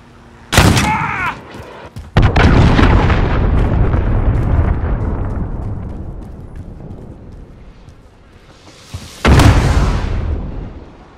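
Cruise missile strikes in Call of Duty: Modern Warfare, a sharp loud blast near the start and another at about two seconds trailing into long rumbling debris, then a third whooshing boom near the end.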